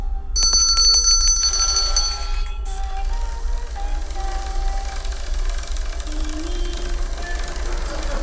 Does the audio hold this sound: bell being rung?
yes